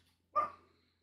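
A single short dog bark, fairly faint and distant, in otherwise quiet surroundings.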